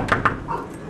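A dog lets out two quick, high whimpers close by, followed by a softer whine trailing off, with no voices.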